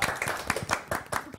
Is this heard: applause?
yes